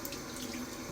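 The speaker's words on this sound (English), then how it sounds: "Just wet the brush and kind of flick out some of the water there." Tap water runs steadily into a sink while a shaving brush is wetted, a close, even splashing flow with no voices over it.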